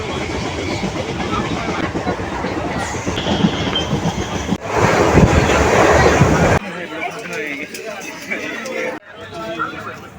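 A train at Barasat railway station rumbles and clatters loudly with wheel noise and a sharp squeal, while people chatter around the platform and the sound cuts abruptly between scenes.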